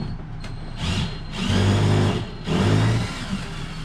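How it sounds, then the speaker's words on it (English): A power drill unscrews long screws holding a microwave in a Grand Design 315RLTS RV, two close bursts of whirring with a pause between, over a steady background hum. "Let's start unscrewing some screws here."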